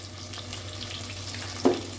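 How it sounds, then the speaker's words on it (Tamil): Onions sizzle softly in hot oil for a sambar, a steady low crackle with a brief clink of a utensil near the end. "ஆனியன் வதங்கிட்டு இருக்கு"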